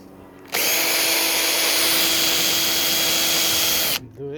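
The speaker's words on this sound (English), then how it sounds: "So I have to go with the drill." A power drill bores holes in metal roof sheeting during home building, its loud, steady high whine starting abruptly, running for about three and a half seconds, then cutting off.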